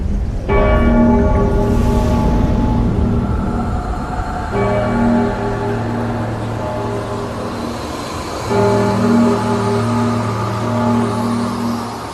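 A large bell rings with long, resonant overlapping tones, struck again a few times so the humming chime swells and sustains throughout.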